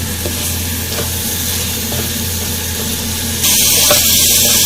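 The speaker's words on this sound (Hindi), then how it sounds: "मसाले के साथ हम इस माश की दाल को अच्छी तरह से भूनेंगे" Mash daal frying in a karahi with spices, a loud, close, continuous sizzle with occasional stirring knocks; the hiss jumps sharply brighter and louder near the end.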